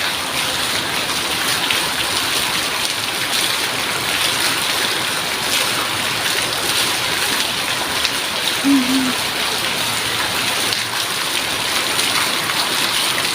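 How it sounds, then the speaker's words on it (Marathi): Steady hiss of heavy monsoon rain falling outdoors, a dense continuous wash that runs alone for the whole stretch, with one brief faint tonal sound partway through. "कारण की पाऊस आलाय म्हणून"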